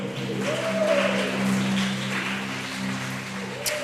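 A church congregation applauds in a sustained, even wash of clapping, with a held organ or keyboard tone underneath and no talking.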